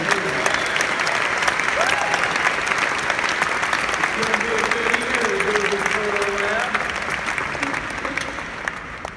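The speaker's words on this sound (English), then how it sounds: "let's give a big round of applause for our presenters." Big, sustained applause from a large conference audience at Adobe MAX 2015 for presenters: a dense, even wash of clapping with scattered cheers and voices rising over it, holding at full strength throughout.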